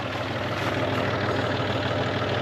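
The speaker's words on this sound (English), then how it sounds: "I'm in the baler tractor" A baler tractor's engine idles steadily in a hayfield, a loud, continuous low rumble close by with no pauses.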